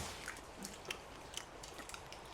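Crispy food is chewed close up with quiet, repeated crunching bites in an irregular rhythm, faint against a soft background hiss.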